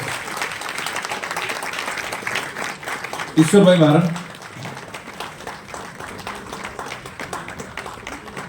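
An audience claps for an honoured elder teacher at a teachers' federation award ceremony in Gandhinagar, Gujarat. The applause is a short burst of about a second amid a steady murmur of crowd noise, with someone speaking over a microphone before and after.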